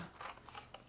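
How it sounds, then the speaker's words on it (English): Scissors snipping through Stampin' Up! cardstock, a couple of quiet crisp cuts close by with no talking. "Cut about 1/2 inch,"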